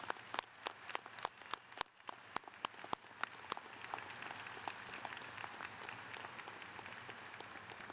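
An audience at a 2021 high school graduation applauds veterans: sharp, distinct claps stand out at first, then thicken into a softer, continuous patter of clapping heard from a distance.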